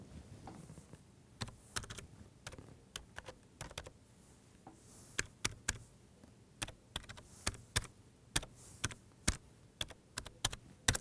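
Keys clatter on a computer keyboard as a web address is typed, with irregular bursts of clicks and short pauses, close and fairly quiet over a low room hum.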